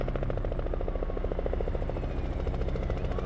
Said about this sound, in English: soon the police helicopter starts circling noisily above him